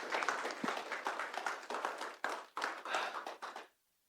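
Small audience clapping steadily for Praveen as he takes the stage at an accessibility event, a few hands close by, stopping abruptly at the end.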